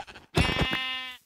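A Minecraft sheep lets out one clear, close bleat of about a second, a wavering nasal cry that follows a brief softer sound.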